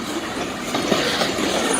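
Freight train cars roll steadily past, a loud, continuous rumble with rhythmic clickety-clack from the wheels over the rail joints and no voices.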